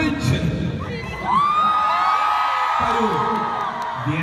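Festival audience at the Young Stars Festival 2018 cheering, whooping and clapping on stage, loud excited shouts rising and falling in waves, with high-pitched yells and a constant crowd wash throughout.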